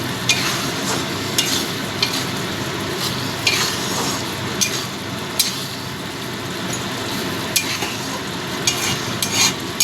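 Okra stirred in a pan with mustard-poppy paste and sugar, a steady frying sizzle with scraping spoon strokes and light clinks recurring every second or so, close and fairly loud, no voices.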